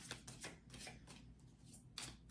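Tarot cards being shuffled and drawn make soft, close riffling and sliding flicks in quick repeated bursts, quiet and without talk.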